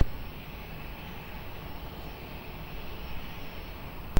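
A plane taking off from runway 02 at Lisbon Airport gives a steady, distant broadband roar of aircraft engine noise that holds at an even level throughout, with no talk.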